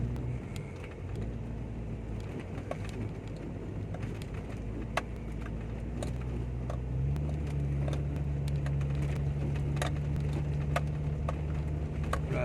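A Jeep Cherokee Limited with a 4.0 engine rolls through water on a Thai jungle track, its engine droning low and steady, the pitch stepping up partway through, with splashes and scattered clicks and knocks.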